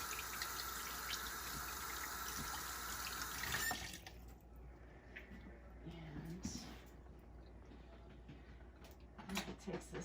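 Water runs from a kitchen tap as a goose gizzard is rinsed, a steady broadband gush for the first few seconds, then cut off, leaving quieter handling noises and faint trickles.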